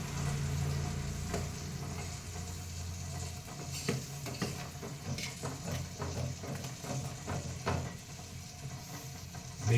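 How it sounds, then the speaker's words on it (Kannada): Ragi mudde, a thick finger millet dough, being stirred and broken up with a wooden stick in a pot over heat, giving a steady scraping churn over a bubbling, sizzling cooking bed, continuous and close. "ಆ ಕೋಲಿನಲ್ಲಿ ಚೆನ್ನಾಗಿ ನಾವು ಅದನ್ನು ತಿರುಗಿಸಿ ಆ ಹಿಟ್ಟು, ಆ ಗಂಟು ಒಡೆಯೋ ರೀತಿ ಮಾಡಬೇಕು"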